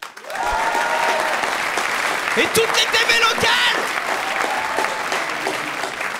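An audience in a comedy club applauds steadily and loudly throughout, with someone speaking over the clapping partway through.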